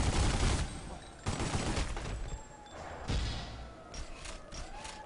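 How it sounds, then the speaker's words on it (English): Gunfire aimed at Strozzi gangsters during a bank robbery in The Godfather video game, a busy mix of scattered shots and bursts over game noise and mechanical clatter, with a few louder impacts standing out. "Go ahead and shoot these Strozzi dudes."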